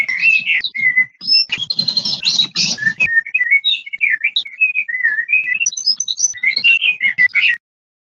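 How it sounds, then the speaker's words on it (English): Real birds singing, with a steady run of chirps, tweets and whistled phrases packed closely together, loud and near, continuing for about seven seconds and then falling silent. "That was real bird sounds from the previous episode."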